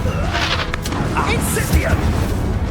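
An Incendio fire spell cast in the Hogwarts Legacy video game gives a dense, rumbling whoosh of flame and combat noise that runs the whole time, with a voice talking over it.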